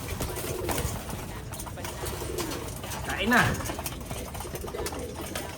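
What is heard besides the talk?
pigeons cooing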